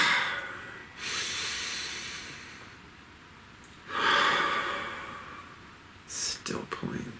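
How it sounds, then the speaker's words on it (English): Slow, deep breaths from a single person, each inhale a long airy rush near the microphone, with quieter exhales between and a few short gasping catches at the end, no talking. "Please, take a nice deep breath."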